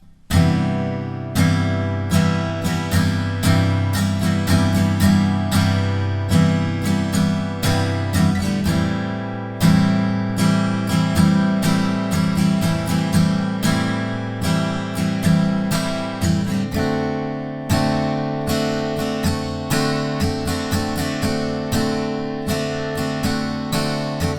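A guitar strums the chorus chords in a steady rhythm, with bright sharp attacks and a fuller, louder passage partway through. No voices.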